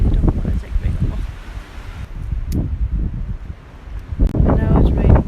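Strong gusts blow outdoors in stormy, windy weather that turns to rain, buffeting the microphone in loud uneven bursts with rustling, while someone talks intermittently over it.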